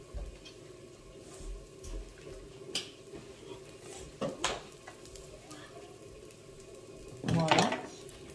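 Vegetables with two garlic cloves sautéing in a pan, a faint steady sizzle broken by scattered clinks and scrapes of a utensil against the pan, with a louder clatter near the end.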